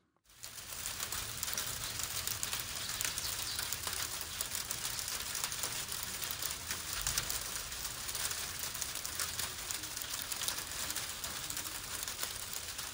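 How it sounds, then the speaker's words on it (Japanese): Dense, continuous pattering of hail striking a hard surface, a steady crackling hiss that stays loud and even throughout, with faint flustered sparrow calls. "雨や雪ではなく当たると痛いあられが降ってきたのでその音を録音しました"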